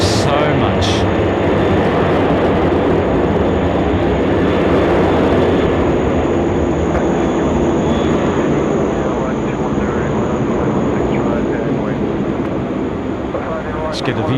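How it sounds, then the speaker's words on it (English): A Velocity Boeing 737-800 departs runway 16 right at Sydney Airport, a steady broadband jet roar that holds loud and constant throughout, with a few faint voices mixed in over it. "Get the views of a departing Velocity 738 here in the foreground on 16 right."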